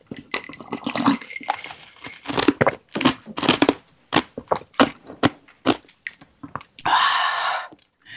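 Close, wet chewing and crunching of mala tang loaded with fried tofu, in irregular bursts of bites and slurpy mouth sounds, ending in a short rustle, with no talk.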